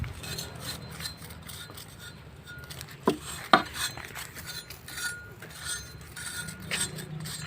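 Scraping and rasping against grilled goat meat and skin, with a few sharp metallic clinks and rubbing strokes at an outdoor cookout, close and moderately loud.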